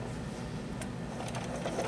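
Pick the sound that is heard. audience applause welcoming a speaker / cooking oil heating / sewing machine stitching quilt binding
sewing machine stitching quilt binding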